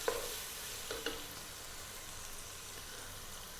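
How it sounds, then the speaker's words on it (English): Washed red dal lentils tumble into a hot, sizzling pan over above-medium heat, giving a steady close frying hiss with a few soft stirring clinks and scrapes near the start. "I'm going to put in the 1 cup now of the red dal, which I've just washed"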